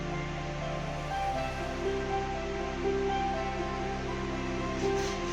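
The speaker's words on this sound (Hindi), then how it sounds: "जब तक दही का पानी खुश्क नहीं हो जाता। भुनाई करते रहेंगे।" Beef fries with yogurt in a pot for yakhni beef pulao, making a steady, even sizzle and hiss that carries on without pause and without voices.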